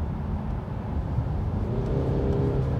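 Peugeot 508 in sport driving mode, heard from inside as a steady engine hum under road and wind noise while it accelerates, with no speech.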